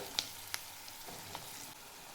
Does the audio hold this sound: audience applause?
no